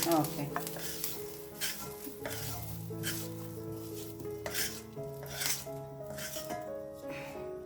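Garlic sizzles and crackles as it fries in a hot pan in a home kitchen, with steady frying hiss and a few scrapes of stirring, close and moderately loud, with no talk.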